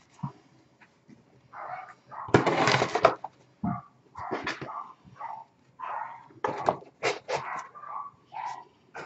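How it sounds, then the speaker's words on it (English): Several dogs bark repeatedly in irregular, excited bursts from somewhere else in the house, moderately loud and carrying through a quiet room with no talk. "I don't know what's going on with those dogs."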